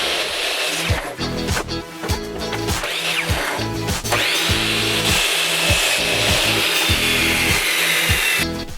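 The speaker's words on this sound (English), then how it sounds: "On the chop saw, cut both ends at the marked" A chop saw cuts through a wine barrel stave in a steady, loud, continuous whine with rasping bursts, the motor pitch climbing partway through and holding to the end.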